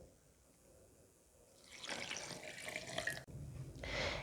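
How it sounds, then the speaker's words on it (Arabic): Cold water runs from a tap while a ginger drink with lemon, ginger and honey is prepared, rising from quiet into a steady close splashing stream with a brief break near the end. "غنضيف شويه ديال الماء، يكون ماء بارد."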